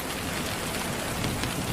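Heavy rain pours steadily during a storm, a dense, unbroken hiss of drops close by with no pauses and no voices.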